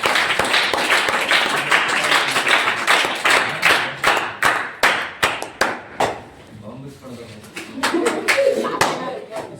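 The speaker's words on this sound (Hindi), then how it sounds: "जोरदार तालियां हो जाती।" Group of students clapping at a writing competition in a classroom, a run of sharp, fairly loud claps in a steady rhythm that thins out, with voices talking underneath and after.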